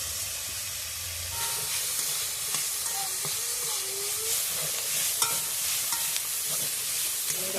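Ginger paste and spices cooking in a pan, a steady hissing sizzle with faint intermittent scraping of a stirring utensil, moderately quiet and close, no speech.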